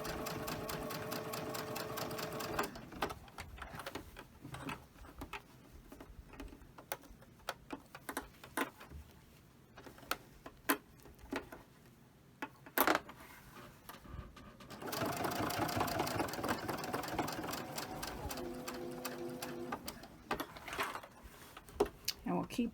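A sewing machine stitches along the edge of a T-shirt being downsized, a steady rapid mechanical whirr that slows and pauses, with a few clicks, then resumes at full speed.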